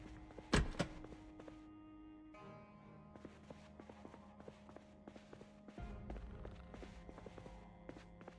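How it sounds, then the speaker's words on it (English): A zombie in Project Zomboid bangs on a door somewhere, producing faint, irregular thuds and knocks over a low background hum, with one sharper impact near the start. "Now he's banging on the door somewhere."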